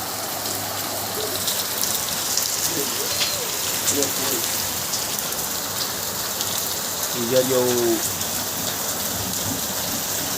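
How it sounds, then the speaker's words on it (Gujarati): Heavy rain pours without a break, a dense and steady close-up roar. A few brief voices speak over it, and no clear thunderclap stands out. "કાટકા સાથે ચાલુ થયો વરસાદ"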